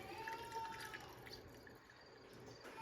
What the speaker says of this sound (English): So I think I'm going to go ahead and fill these with brine.